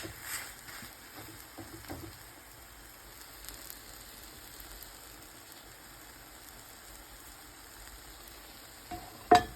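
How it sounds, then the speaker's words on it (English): Tomatoes warming in a pan on a home stove while being stirred: a faint, soft sizzle with occasional light utensil scrapes, ending in one sharper clink. "I'm going to make sure my tomatoes get a little bit warm."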